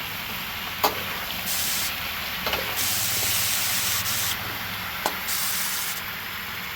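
Frog adobo sizzles in a pan with garlic, onion and ginger, a steady close hiss with a few brief sharp pops and crackles breaking through.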